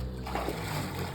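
A person jumps into a cool river, giving a single brief close splash of water in an outdoor setting.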